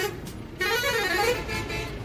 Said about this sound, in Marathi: आणि आम्ही थांबलोय ट्रॅफिकला.